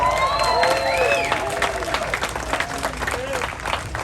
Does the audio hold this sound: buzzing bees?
no